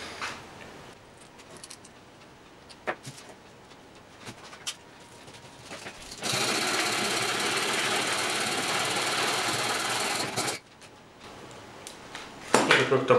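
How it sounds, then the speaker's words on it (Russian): A small nut on a bolt is sawn off by hand, a few quiet scrapes and taps giving way to about four seconds of loud, continuous rasping sawing, then a pause and a brief burst of handling clatter. "Это как-то быстро отпилилась гаечка."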